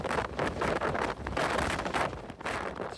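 Strong desert wind in the Gobi roars and gusts steadily across an open plain, buffeting loudly in surges with no voices.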